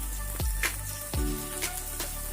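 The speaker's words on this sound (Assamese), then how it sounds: "হেতাৰে গোটেই বস্তুখিনি ভালদৰে লৰাই দিছোঁ, যাতে গোটেই বস্তুখিনি ভালদৰে মিলি যায়" A spatula stirs a mixture of papaya peel and fish in a pan, making a few distinct scraping strokes over a soft, steady sizzle, close and moderately quiet.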